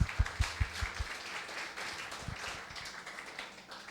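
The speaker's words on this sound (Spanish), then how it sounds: "vamos a darles un aplauso igualmente" An audience in a church service claps together, a burst of scattered hand claps with a few sharp taps early on, then a softer, steadier patter of applause that fades toward the end.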